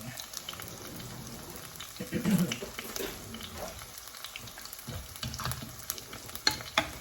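Chili and other ingredients for a Kerala-style chicken or vegetable stew sizzle and pop in a pan, a steady crackling fry with scattered sharper pops across the clip and no talking.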